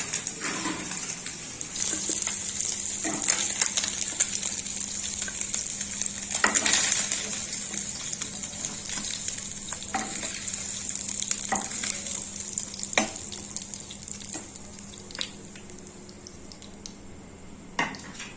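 Small mourala fish fry lightly in oil with a steady close sizzle, punctuated by occasional clicks and taps of a utensil against the pan.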